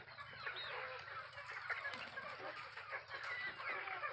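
Chickens in a shed of local desi hens give off dense, overlapping clucks and calls, a steady close flock chatter with no voices.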